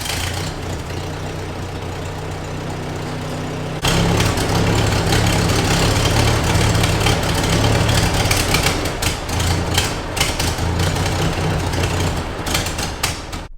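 A 1953 Ford NAA Golden Jubilee tractor engine, run for the first time in over five years, fires up after a few seconds of low idle-like rumble and keeps running loudly and steadily with a rough, uneven low throb.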